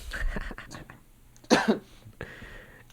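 A person coughs hard once at close range amid brief throat sounds and some murmured talk.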